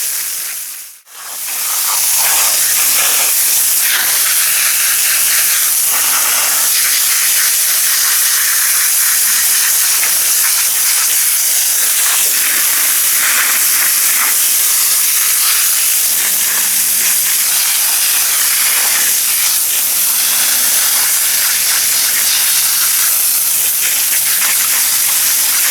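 A strong water spray hoses caked dirt off freshly harvested container-grown turmeric, a loud, close, continuous hissing rush that runs nearly the whole time after a brief gap at the start.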